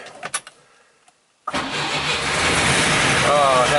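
A ZAZ 966 car's engine starts: a few clicks and a brief pause, then the engine catches abruptly and settles into a loud, steady, rough idle close by, with a voice heard early on.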